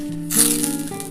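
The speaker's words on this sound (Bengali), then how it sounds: "তেলটা গরম হয়ে গেছে বন্ধুরা, আমি বড়িগুলো দিয়ে দিলাম" Sun-dried lentil dumplings hit hot oil with a sudden close burst of hissing and rattling bubbles, then settle into a steady fizz over a low background hum.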